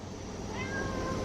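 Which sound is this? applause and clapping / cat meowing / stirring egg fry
cat meowing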